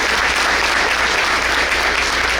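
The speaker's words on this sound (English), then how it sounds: "Let's give them all a round of applause for getting to that point." Steady, dense applause from an audience at a school district breakfast event, sustained and even throughout with no pauses.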